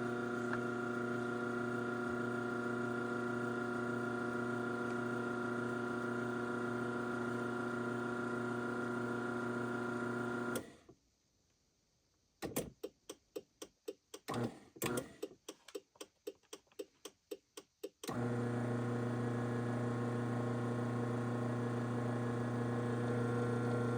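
A LiftMaster 2280R garage door opener in very nice condition with its original board, a steady mechanical hum that cuts out midway and gives way to a rapid series of sharp ticks and clicks before the drone resumes.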